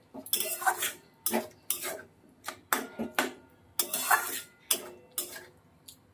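Spices for aloo kosha are stirred and fried in a pan, with a metal spoon scraping and clinking against it in distinct, irregular strokes, close and crisp, with brief pauses between them.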